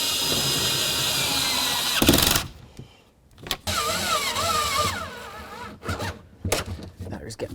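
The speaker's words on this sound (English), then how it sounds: "Grab your 2 mounting bolts and snug them up." Power tool tightening strut mounting bolts on a Toyota Matrix rear strut, a loud whirring burst followed by a quieter stretch, then short spurts of the tool, with a person talking in between.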